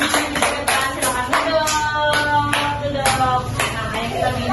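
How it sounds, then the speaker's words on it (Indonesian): An Indonesian school class claps for pupils who showed their work, with rhythmic, evenly spaced hand claps close by and a voice talking over them. "Ayo tepuk tangan yang sudah berani menunjukkan"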